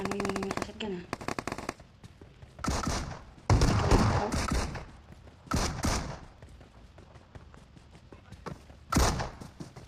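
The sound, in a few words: gunfire from a shotgun in video game PUBG Mobile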